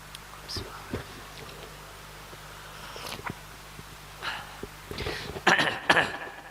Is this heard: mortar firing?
no